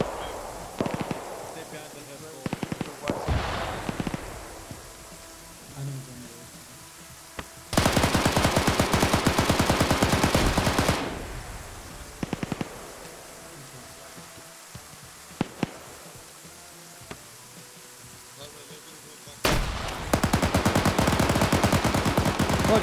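Video game battle gunfire crackles in long automatic bursts and scattered single shots, loud and dense in two extended stretches, with quieter pops in between.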